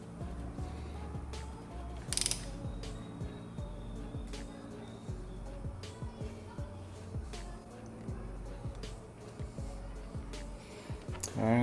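A ProTaper handlebar clamp bolt on a Yamaha MT-09 (FZ-09) being snugged down with a ratchet, giving a series of close, quick ratcheting clicks in short bursts over a low background hum.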